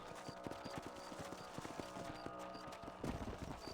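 Horse hooves clip-clop at a steady walking rhythm in Red Dead Redemption, quiet repeated knocks on a ranch trail over faint ambient game background.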